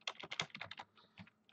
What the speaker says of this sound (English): I'm going to type in database.sqlite